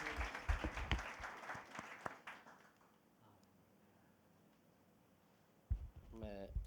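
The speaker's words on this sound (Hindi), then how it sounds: "आइए हम तालियां बजाकर सब गवाहियों के लिए धन्यवाद कर सकते हैं।" Congregation clapping at a Hindi church service, a short spell of brisk applause at the start that thins out and dies away into quiet room noise before a voice returns near the end.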